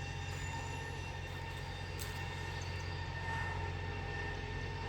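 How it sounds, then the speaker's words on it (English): A passenger train rumbles continuously past a Kenyan village, steady loud rolling of wheels on rails with faint metallic squeals, close by and unbroken. "that is the train. It passes through our village every day."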